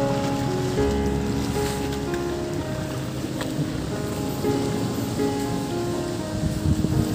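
Rough sea surf at the mouth of the Vinh Dong river fishing harbour on Phu Quoc, a steady loud wash of waves with wind and faint tonal hum from moored fishing boats.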